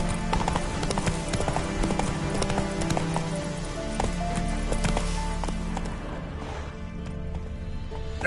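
Roach, Geralt's horse in The Witcher 3: Wild Hunt, gallops with fast, steady hoofbeats that run continuously and fairly close, mixed with game ambience and a few sharper knocks.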